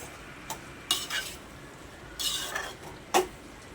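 A spoon scrapes and clinks through biryani gravy with curd stirred in a pan, several short separate strokes over a faint low sizzle, close and quiet, no talking.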